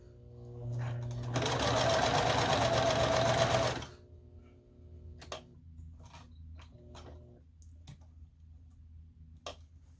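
Sewing machine running a seam on a string quilt, a loud close burst of rapid stitching lasting a couple of seconds, then stopping; afterward only quiet handling clicks and faint taps in a hushed room.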